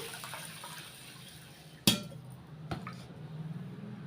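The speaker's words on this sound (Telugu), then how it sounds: "ఇప్పుడు వాటర్ వేసి నానబెట్టుకొని ఉంచుకుందాం" Water poured over washed pearl millet in a kitchen vessel to soak, a soft running splash with a sharp clink near the middle, fairly close and alone.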